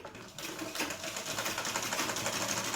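A sewing machine stitches a kids' boutique-style lehenga, running as a steady whirring, rapid needle clatter close up after a brief quieter start, with no talking.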